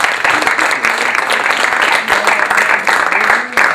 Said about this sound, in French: Allez-y, par main d'applaudissement